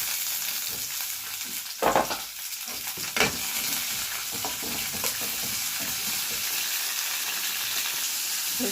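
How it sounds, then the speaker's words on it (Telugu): Tomatoes frying in a little oil on a stove, a steady bright sizzle with a couple of louder bursts of crackling and stirring early on, otherwise even and close. "చూడండి, టమాటాలు కూడా ఆల్మోస్ట్ వేగిపోయాయి."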